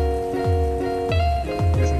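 Steady rain falls on a busy city street in Hangzhou, a continuous hiss of drops spattering the wet surface, with repeated low swooshes of passing cars and traffic hum throughout.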